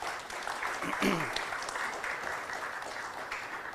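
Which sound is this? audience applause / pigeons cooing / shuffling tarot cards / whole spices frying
audience applause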